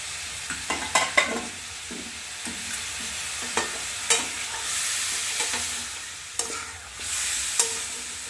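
Chicken curry being stirred and fried in hot water, a spatula scraping and clacking repeatedly against the pot over a steady, loud sizzle.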